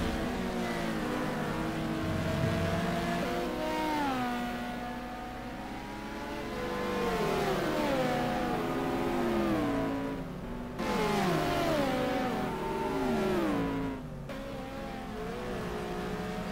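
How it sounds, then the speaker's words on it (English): Race car engines rev and shift through gears in a sim racing game at Zolder, among them a Ferrari, a Porsche and a Viper, their pitch rising and falling in long sweeps with brief cuts where the throttle lifts. "We look back from Zahir Essa at Chris Brown's Ferrari"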